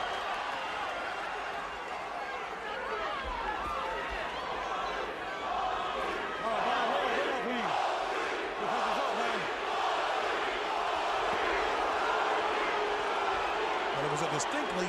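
Boxing crowd at a professional fight between Shane Mosley and Fernando Vargas cheers and roars continuously, a dense, loud arena swell that rises and falls with shouts and whistles throughout.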